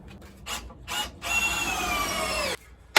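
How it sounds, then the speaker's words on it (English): A power drill drives screws through a 2x4 into a solid wooden beam on a porch: two short bursts, then a long whining drive with a rising motor pitch that stops abruptly, close and loud. "I'm going to put some screws through that 2x4 and into that beam."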